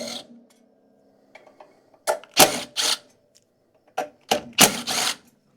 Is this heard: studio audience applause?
no